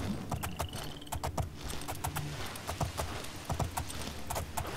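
Horse hooves clip-clop in Elder Scrolls IV: Oblivion, a quick rhythmic run of hoofbeats with clicks and tones from the game, fairly faint and steady throughout.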